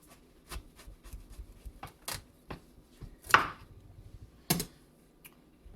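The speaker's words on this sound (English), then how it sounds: "I'm gonna try and cut it into smaller pieces" A knife cuts watermelon or pineapple into smaller pieces on a board, a steady series of close, crisp chops and thuds of varying strength with brief pauses between them.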